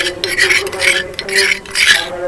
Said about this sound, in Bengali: এবার এই উষ্ণ গরম জলের মধ্যে দিয়ে দিচ্ছি অল্প একটু নুন জলের মধ্যে নুনটা ভালোভাবে মিশিয়ে নেব